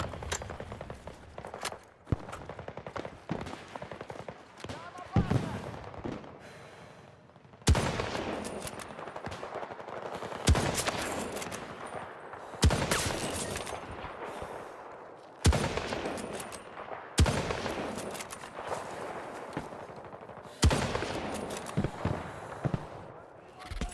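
Rapid gunfire in Battlefield 2042 rattles in dense bursts with sharp cracks and booms, separated by short pauses, while a player talks at times.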